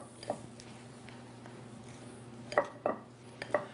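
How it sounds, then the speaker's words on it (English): Matzo meal with baking powder and salt being mixed in a bowl, heard as faint scraping and a few sharp utensil clinks against the bowl, clustered near the end, over a quiet room hum. "I just mix that in fairly evenly"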